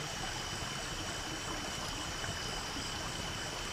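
A stream flows beside a farm campsite, giving a steady, even rush of water close by with no pauses and no voices.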